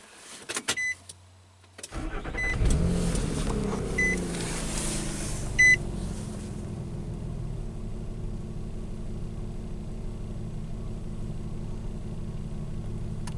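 A few beeps and clicks, then a Nissan Pathfinder with a hard-start and overheating fault turns over and settles into a steady low idle rumble that continues to the end.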